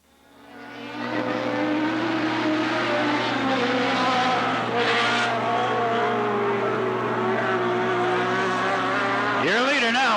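Race cars roar around Riverside Speedway (Cottage Grove Speedway), a 1991 oval race including a 1200cc Yamaha-engined car, engines droning loud and steady throughout with pitch swells as cars pass, a track announcer talking over the din.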